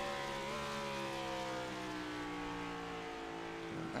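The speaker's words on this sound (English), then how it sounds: "You can just hear the one downshift into 4th." Race car engine in iRacing at Phoenix Raceway, a steady droning whine that holds at high revs with small pitch shifts as it drops into fourth gear, continuous and fairly close.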